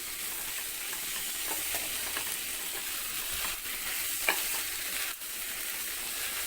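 Wheat noodles with vegetables stirred in a hot pan, a steady low sizzle with soft scraping strokes and a few light clinks, close and continuous without talk.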